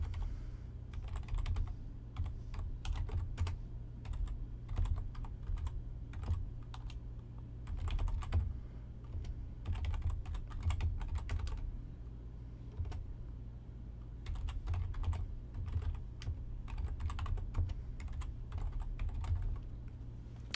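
Someone types on a computer keyboard in steady, close bursts of key clicks broken by short pauses, set against a constant low hum, with no voices.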